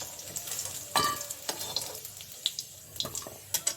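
Potato pieces frying in hot oil while cooking a home-style jackfruit and prawn curry, a soft steady sizzle broken by scraping, stirring clatters and brief splashy bursts at close range.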